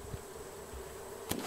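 A continuous buzz of bees in the survival game Raft hums steadily, joined near the end by a short sharp click or hit; no one speaks.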